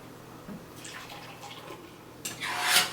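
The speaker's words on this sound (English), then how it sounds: "So I've got my strainer and I'm just gonna go ahead and pour the mixture" Crème brûlée custard mixture pours through a metal strainer over a kitchen sink, giving soft, trickling liquid noises with a few small scrapes, growing louder and splashier toward the end, with no talk.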